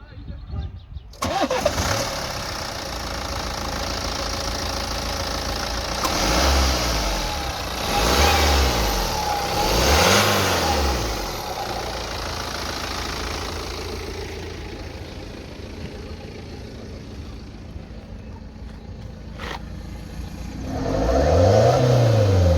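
A BMW 125d diesel engine starts and revs repeatedly, rising and falling in pitch, then settles to a steady idle before another rev near the end.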